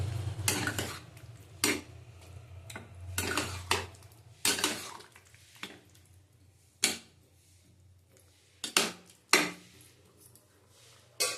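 A spoon scrapes and clinks against a pan while papaya and potato curry is stirred, giving irregular metallic knocks spaced a second or two apart over a quiet background.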